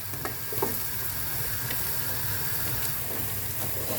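Broccoli and carrots sizzle loudly and continuously in a close-up pan, with a few soft scrapes and taps as the pieces are turned.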